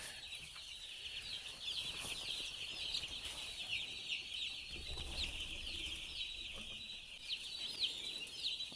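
A brood of about 285 two-week-old chicks on a farm, a constant high chorus of overlapping peeps and cheeps filling the space, with soft shuffling and faint low thumps beneath.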